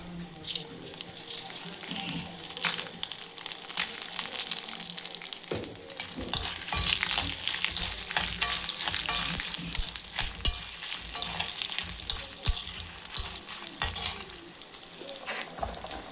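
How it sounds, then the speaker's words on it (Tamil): Urad dal and around fifteen red chillies frying in a pan for a pirandai thuvaiyal, a steady crackling sizzle with occasional stirring scrapes and clinks, moderately loud and continuous. "உளுந்தம்பருப்பு வந்துருச்சு. இதில் மிளகா ஒரு 15 மிளகா,"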